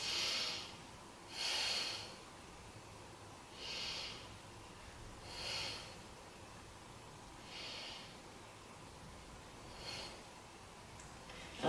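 Deep, slow breaths during a beginner yoga pose, about six soft airy exhalations spaced every two seconds or so, fairly close and quiet with no talking.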